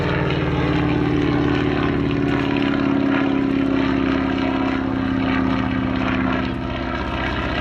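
A 1942–43 US Navy-built Boeing Stearman N2S biplane with a 220 horsepower Continental R670 radial engine at an airshow, giving a loud, steady propeller drone that stays strong throughout and eases slightly near the end.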